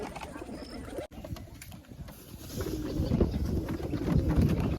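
Fancy pigeons cooing in a loft, soft low coos over a steady murmur of background noise, growing a little busier toward the end.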